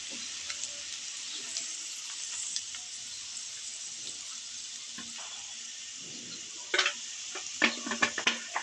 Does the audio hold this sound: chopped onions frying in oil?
yes